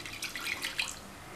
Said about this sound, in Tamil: ஒரு 1/2 கப் தண்ணி சேர்த்துருக்கேன்.